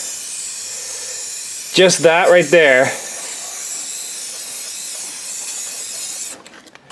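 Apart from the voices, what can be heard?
spray painting an engine block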